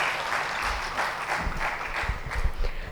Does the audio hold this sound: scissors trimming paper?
no